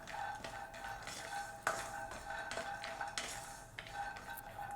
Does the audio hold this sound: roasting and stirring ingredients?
yes